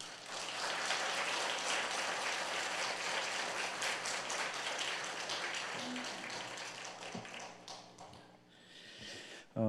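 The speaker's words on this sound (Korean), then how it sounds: "우리 나오실 때 우리 큰 박수로 우리 환영하시기 바랍니다" Church congregation at a late-night prayer meeting giving loud applause to welcome the pastor, a dense sustained wash of clapping that thins and tapers near the end.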